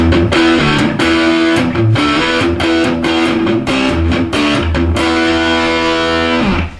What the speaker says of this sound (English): we're going to put the distortion on our amp.